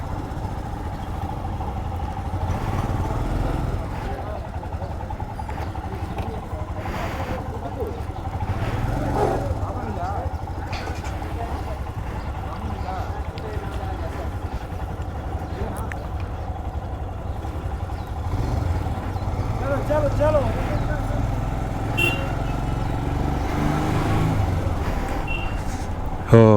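Motorcycles riding uphill from Leh toward Khardung La, a continuous engine drone with occasional clatter running steadily underneath a rider's ongoing talk.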